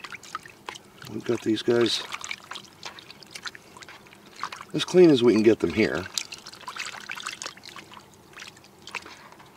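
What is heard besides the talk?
stirring water with morel mushrooms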